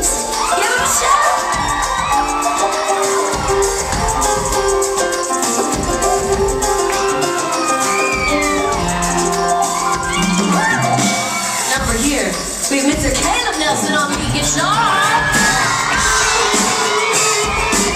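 A big concert crowd at a show in Dallas, Texas cheers, whoops and shouts loudly and continuously, with high-pitched screams rising over the roar.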